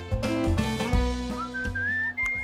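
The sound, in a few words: whistling from the video game Where the Water Tastes Like Wine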